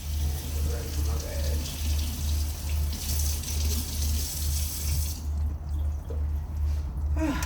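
Pot rinsed under running kitchen tap water, a steady splashing stream with a low hum underneath, near and continuous until it tapers off toward the end.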